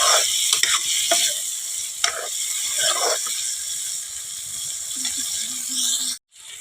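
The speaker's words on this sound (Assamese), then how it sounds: "এইখিনি ভালকৈ পুনৰবাৰ লৰাই দিম আৰু এতিয়া এইখিনি এনেকৈ অকণমান সময় মই ভাজি ল'ম" Soaked lentils fry in a pan with a constant hissing sizzle, broken by several scraping stirs of a utensil near the start. The sizzle continues alone until a brief cut at the end.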